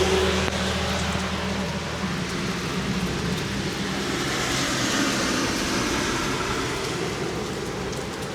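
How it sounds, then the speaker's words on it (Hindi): Heavy rain pours in a steady, dense hiss that stays loud and even throughout. "भयंकर बारिश हो रहा है और इस वजह से मेरे को यहाँ रुकना पड़ गया अभी"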